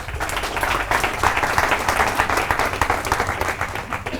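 An audience at a Forever Living business training session claps steadily and densely for several seconds, a close, continuous wash of applause with no speech.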